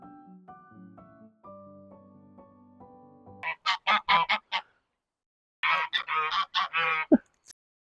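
Several geese honk loudly in two bursts of harsh, repeated calls after a short stretch of soft musical tones, close by.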